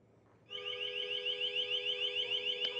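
An LRAD acoustic device sounds a loud, piercing warbling alarm tone that starts abruptly after a moment of quiet and pulses steadily.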